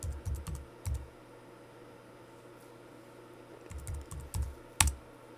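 Short bursts of clicky typing on a computer keyboard at a terminal, a few quick keystrokes, a long pause, then another run ending in one firm key press, close and fairly quiet.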